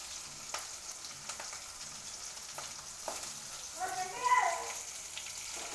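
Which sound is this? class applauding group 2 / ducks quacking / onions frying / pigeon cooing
onions frying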